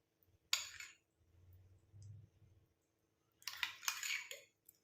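A spoon stirs lemon juice into face cream in a small bowl, giving two bursts of light scraping and clinking against the container, separated by a quiet pause.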